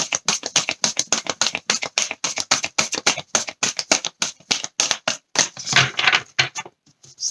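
A new deck of tarot cards being shuffled, with quick, even rhythmic flicks of cards snapping against each other, close and crisp, speeding into a dense flurry before a few final taps.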